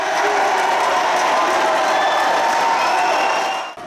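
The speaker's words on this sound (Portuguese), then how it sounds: "A torcida foi ao delírio." Spectators at a university volleyball match roar in loud, sustained cheering and applause, a dense, continuous crowd wall of sound that fills the whole stretch before cutting off abruptly at the end.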